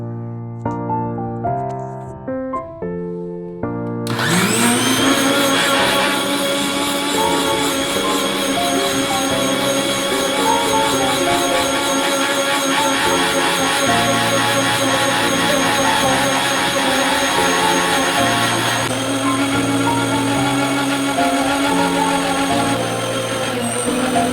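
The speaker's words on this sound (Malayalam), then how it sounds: "അങ്ങനെ മിക്സിൻ്റെ ജാറിൽ തേങ്ങ ഇട്ട് കൊടുക്കലാന്ന്." A kitchen mixer grinder runs steadily while grinding grated coconut in its jar for a curry, a loud continuous motor whine and churning that starts abruptly after a few seconds of quiet and holds to the end.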